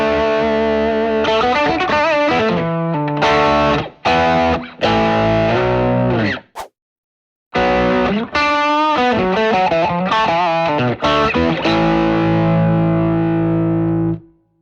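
Electric guitar driven through a TubeScreamer overdrive pedal plays loud, sustained distorted chords and riffs, with one brief silent gap midway and a long ringing final chord.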